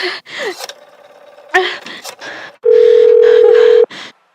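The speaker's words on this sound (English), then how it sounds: "You may dial that number direct." A telephone in a live radio drama being dialed, with short clicks and tones broken up by gasps and breaths, followed by a loud, steady dial tone of about a second.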